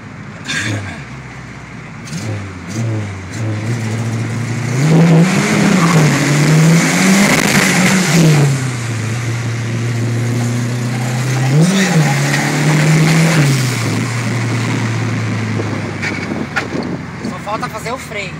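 A VW Gol turbo car's engine revs repeatedly in close, loud surges that rise and fall, with people talking nearby throughout.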